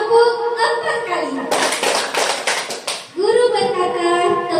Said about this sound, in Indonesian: Guru berkata, tepuk 4 kali.